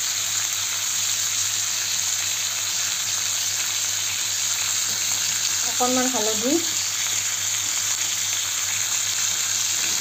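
A sour vegetable fries in a pan with a steady, loud sizzle, and a voice speaks briefly over it partway through.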